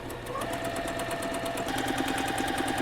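A sewing machine runs a long straight basting stitch down the side of a puffy shirred-dress sleeve, a fast even mechanical clatter with steady rapid needle ticks, close and continuous without speech.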